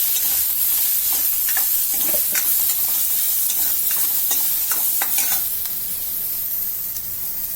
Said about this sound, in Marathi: आपल्याला याच्यात थोडंसं तेल टाकायचं आहे आणि चांगला कांदा भाजून घ्यायचा आहे